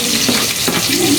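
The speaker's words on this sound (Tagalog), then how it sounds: "Hinalo ko lang saglit yung sibuyas. Ayan, ipapalo ko na rin yung bawang." Chopped onion and garlic sauté in a hot pan, giving a close, continuous sizzle with a few soft stirring swishes and no talking.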